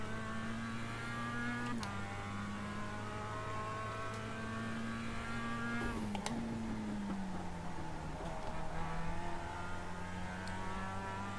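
A race car in the iRacing sim slides through a drift, its engine holding a steady droning whine that dips and shifts pitch as the revs change, loud and continuous with no talk over it.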